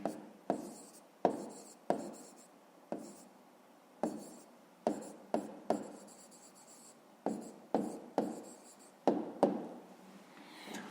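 A pen scratches across paper as a fifth-grade math answer is written out by hand, a close series of short strokes, each starting with a crisp tap and trailing off, in a quiet room without talking.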